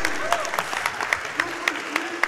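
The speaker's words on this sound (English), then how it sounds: "Anytime Donald and Goofy does anything, I'm going to clap for it." A live audience at the Summer Games Done Quick 2017 speedrun event claps in sharp, evenly spaced bursts during a Kingdom Hearts II Final Mix run, while people talk over the clapping.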